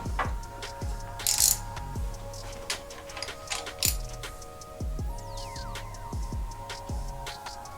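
A ratcheting wrench tightens a part during a motor rebuild, clicking in steady repeated strokes at close range with a metallic ringing tone behind, and no talking.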